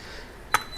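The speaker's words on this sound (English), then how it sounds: "the oven temp needs to be brought up. It's beeping at me." A single short electronic beep from an oven, fairly faint, over quiet room background.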